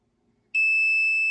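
A sustained electronic beep from a reloading powder dispenser signalling a charge is ready starts abruptly after a short near-silence and holds steady, high-pitched and clear.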